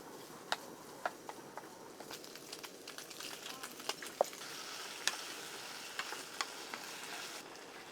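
Spam kimchi fried rice fries quietly at a campsite with a soft, continuous sizzle. Sharp clicks and taps of a utensil against the pan come through at intervals, and there is no talking.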